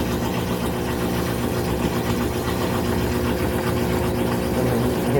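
A washing machine motor runs through its spin cycle, a loud, steady droning hum with layered mechanical tones and vibration, unbroken throughout with no talk.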